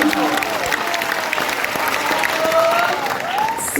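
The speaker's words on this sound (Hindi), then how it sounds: "तुम लोग भी तालियों का साज दे दे" An audience claps through a Hindi poetry recitation by a poet, a steady patter of applause from a crowd with a voice speaking over it.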